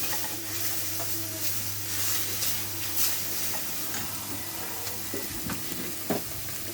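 Mushrooms and onions fry in a pan with a steady, dense sizzle and hiss, plus a few faint clinks and stirring scrapes, close up and without speech.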